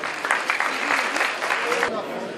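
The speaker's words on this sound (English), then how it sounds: "big round of applause" Applause from the audience at a community recognition night, moderately loud and continuous, with a voice talking over it.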